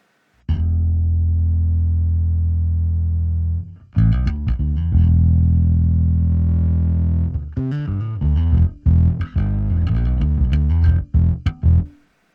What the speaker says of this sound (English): Now we have some subtle sound, some subtle distortion underneath our original sound.